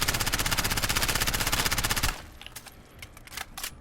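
MP7 submachine gun firing in Modern Warfare during a recoil test, a loud rapid even burst of about two seconds, then falling brass tinkling and clicks.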